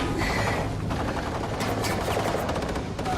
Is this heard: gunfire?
yes